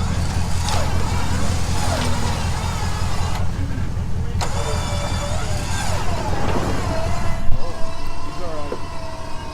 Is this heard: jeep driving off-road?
yes